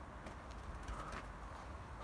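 Tumbler pigeon cooing outdoors in cold weather, faint low soft coos against a quiet background, brief and distant.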